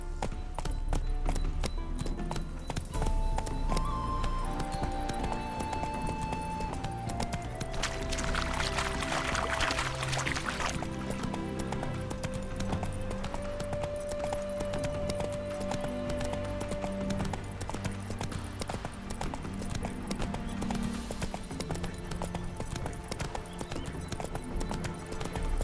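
Roach, the horse in The Witcher 3, trots with a steady clip-clop of hooves that runs throughout, mixed with music and ambient game sound, including a brief splashing, pouring-like wash partway through.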